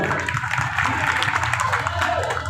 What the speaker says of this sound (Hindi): जोरदार ताली से, जोरदार ताली।